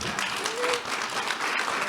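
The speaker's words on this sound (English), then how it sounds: "Let's give the panel one more round of applause." An audience applauds a panel at the close of a session, a steady wash of dense clapping across the whole stretch with a faint voice briefly audible beneath it.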